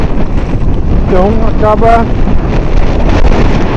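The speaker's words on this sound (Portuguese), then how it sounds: "E acaba pegando muito vento, né?" Strong wind roars on the Caí River during a kayak expedition. The loud, constant gusting buffets the microphone throughout, and someone speaks Portuguese over it.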